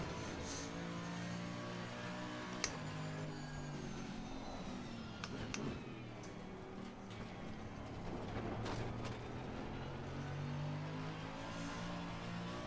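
A racing car engine in the video game Assetto Corsa Competizione drones steadily throughout, its pitch shifting up and down with gear changes, with occasional sharp clicks and rattles over the continuous roar.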